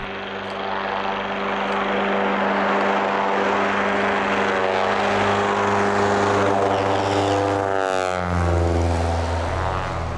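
A Cessna 170 propeller airplane runs its engine at a steady loud drone, close by, with a shift in pitch near the end as the engine note changes.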